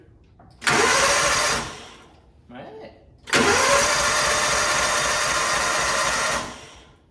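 A barn-find Kawasaki Mule 550 utility vehicle cranks over loudly in two bursts, a short one and then a longer one of about three seconds. A brief spoken remark comes between them.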